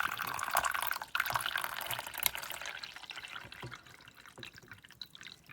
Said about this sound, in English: I'm going to pour in the water up to the max fill line.